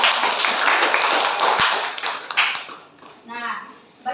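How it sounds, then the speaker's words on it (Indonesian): Classroom students clapping their hands together in a burst of quick, close applause that fades out after a few seconds, followed by a brief voice. "Beri tepuk tangan untuk kehadiran kita semua."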